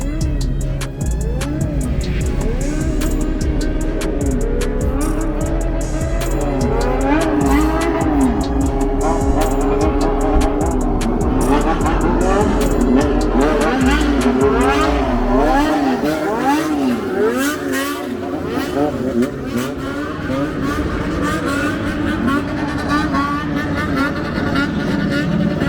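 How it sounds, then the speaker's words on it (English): Many cars pull into a night car meet in Kobe, Japan, engines rumbling and revving steadily at close range throughout, with a dense mix of exhaust notes and occasional louder surges, under crowd chatter and voices. "Okay, the cars are entering here."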